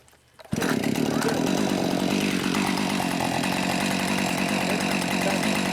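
After a short quiet lead-in, a chainsaw bursts to life and runs steadily and loudly at a constant idle-to-mid roar with no break.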